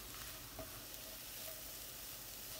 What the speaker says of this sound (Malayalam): പിന്നെ കടുക് വറുത്ത് വയ്ക്കുക